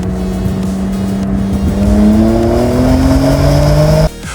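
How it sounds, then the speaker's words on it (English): An all-wheel drive BMW M2 accelerating hard, its engine note climbing steadily and loudly from close by before cutting off abruptly near the end, with no talking. "It pulls you out of corners with a level of violence that rear-wheel drive simply cannot match"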